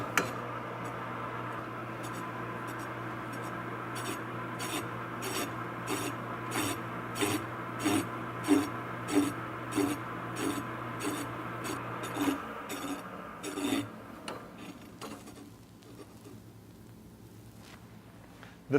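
A disc sander's wheel, running unbalanced, rasps against the work in an even, pulsing rhythm, heavy on each pass. The sound grows fainter and thins out toward the end.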